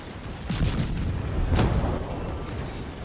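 Torpedo hits strike an Enterprise carrier in World of Warships, a run of deep, rumbling booms with one sharp peak in the middle, loud and close over a continuous roar of battle noise, no talk.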